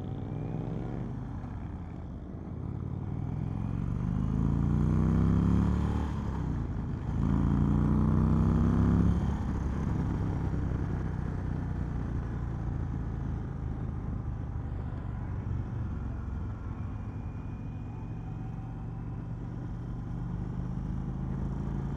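A 2020 Indian Chieftain Limited motorcycle is ridden through corners, its engine giving a continuous close rumble that rises for a few seconds and then settles to a steady drone under wind.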